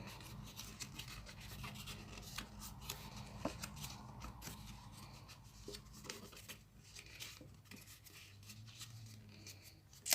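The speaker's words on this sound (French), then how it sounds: "je vais venir plier mes plis en accordéon" Paper is folded back and forth into accordion pleats for a Christmas envelope, giving close, steady rustling and crisp creasing scrapes with occasional sharper snaps.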